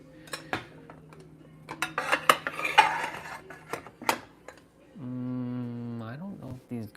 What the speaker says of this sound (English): Just gonna pack some dishes quickly.